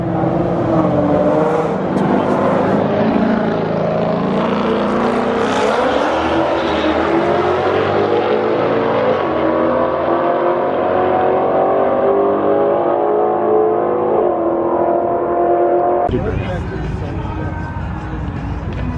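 Drag race cars accelerate down a strip, a loud, rising engine roar building steadily over many seconds before cutting to a different, rougher engine note near the end; a voice talks over the noise.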